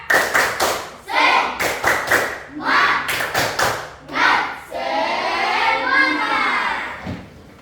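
Group of students in an Indonesian Islamic religious education classroom performs a rhythmic cheer clap, several sharp bursts of clapping in a patterned beat, followed by children's voices chanting together near the end.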